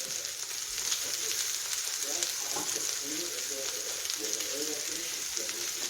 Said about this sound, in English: now I'm going to add a can of diced tomatoes